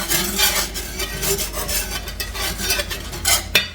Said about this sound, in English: And give them a stir. And it's already creating a gravy.